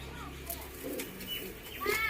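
Kalsira pigeons coo softly in the background, low murmuring calls amid faint chirps and quiet ambient noise.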